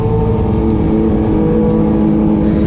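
A Yamaha MT-09 motorcycle engine hums loudly and steadily while riding, with a constant close drone and wind rush throughout.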